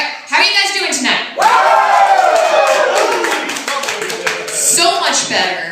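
Comedy club audience cheering and clapping loudly for a stand-up comedian, bursts of applause and shouts that start abruptly and stay loud, with the comedian's voice cutting in over them.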